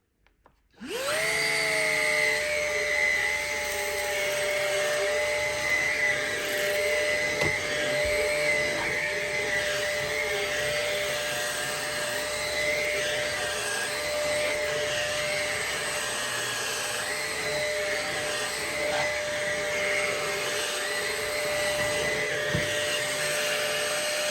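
A Numatic Henry Quick cordless stick vacuum on low power switches on and holds a steady whirring hum with a faint high whine, running continuously and close by without talk.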